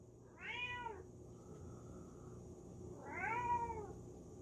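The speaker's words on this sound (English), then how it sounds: "You're a bad cat." A cat meowing twice, two drawn-out, clear meows about three seconds apart, close and moderately loud over a quiet background hum, with no talking.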